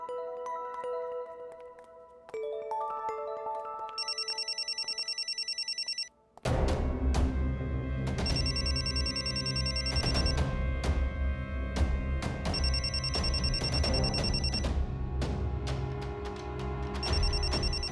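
A telephone rings for a friend's call, first a soft melodic tone pattern, then a louder, fuller ringtone with repeating bright bell-like chimes that carries on steadily for the full stretch.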